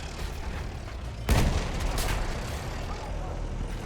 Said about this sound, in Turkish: Bak bana bomba attı.